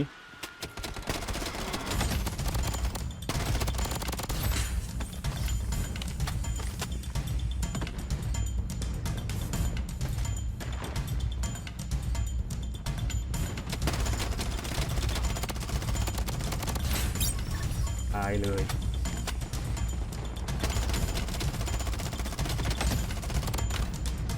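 Continuous gunfire in the shooter game Project Blood Strike, with dense rapid shots and automatic bursts running nonstop and loud over a constant battle din.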